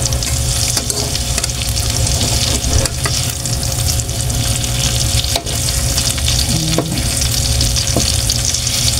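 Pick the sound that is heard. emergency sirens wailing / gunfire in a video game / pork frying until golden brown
pork frying until golden brown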